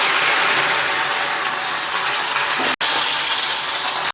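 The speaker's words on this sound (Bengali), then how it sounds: "ও মাছের তেলে কিন্তু কচুটা ভেজে নেব। কচু ভেজে নিচ্ছি।" Pieces of taro fry in fish oil in a steady, loud, broadband sizzle that fills the whole stretch, broken once by a brief dropout.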